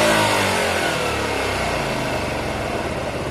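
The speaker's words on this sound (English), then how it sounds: "I think the revs did lift on that last quarter turn in." A Honda Varadero 125 motorcycle engine, just after carburettor tuning, revs up close and loud, then settles back down with a steady, throaty drone and no talking.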